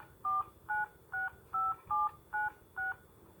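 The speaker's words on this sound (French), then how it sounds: "Et le compose et ça sonne." Push-button phone dialing a number: seven evenly spaced, clear two-tone DTMF beeps at a steady rhythm, close and moderately loud, with no voices; no ringing tone follows within the clip.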